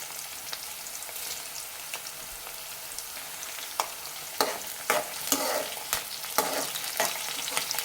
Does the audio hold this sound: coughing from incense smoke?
no